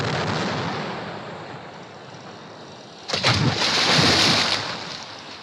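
Cannon fire in a vintage Disney vinyl audio drama of Swiss Family Robinson, set at sea: after a steady wash of surf-like noise, a loud broadband boom hits and rolls on for over a second, with no voices over it.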